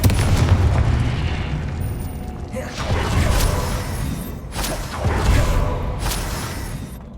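A Confringo blasting spell detonates in the Hogwarts Legacy video game, a series of heavy, booming explosions roaring one after another with rumbling low-end blasts and crashing debris, loud and continuous throughout.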